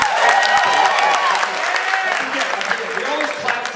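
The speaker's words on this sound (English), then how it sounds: "We always clap for time." Audience applause and clapping at a comedy show by recovering addicts, a warm burst of many hands clapping in a room with crowd noise and voices mixed in, steady and fairly loud throughout.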